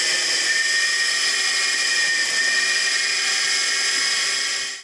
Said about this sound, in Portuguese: a furadeira que tem amortecedores e caixa de direção de carro